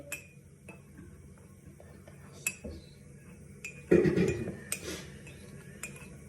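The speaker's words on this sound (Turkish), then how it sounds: "Ben de şunu birazcık karıştırayım." A spoon stirring chocolate milk in a cup, scattered close clinks against the sides with a brief louder scrape-and-swirl burst, in a quiet kitchen.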